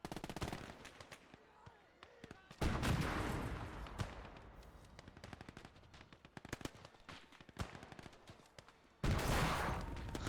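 Rapid bursts of automatic fire and heavy cannon blasts crack through a World War II tank battle between a Valentine and a Panzer IV in the game Gates of Hell, with loud thumps at intervals and background commotion.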